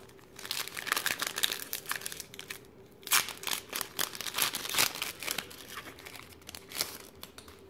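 Pokémon card booster pack wrapper being torn open, close crinkling and crackling of foil plastic in irregular bursts with brief pauses, no voices.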